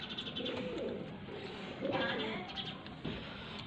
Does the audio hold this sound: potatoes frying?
no